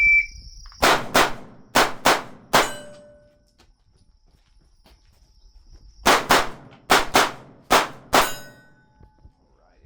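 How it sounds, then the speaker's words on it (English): A brand-new Springfield Hellcat Pro Comp pistol fires 147 grain Ammo Inc rounds at a range: two loud, close strings of five sharp shots each, separated by a few seconds of near quiet. "We've run through about 350 odd rounds with the brand new Springfield Hellcat Pro Comp."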